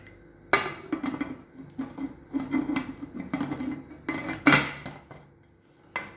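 A pressure cooker lid clanks shut over dal khichdi, a loud metallic clack followed by a series of scraping, knocking metal-on-metal handling sounds and a final sharp clunk, with no talking.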